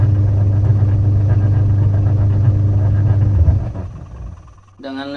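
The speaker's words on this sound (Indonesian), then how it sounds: "mesin kembali berputar" A repaired washing machine motor hums and turns with a steady low droning spin, then winds down over the last seconds as a voice begins talking.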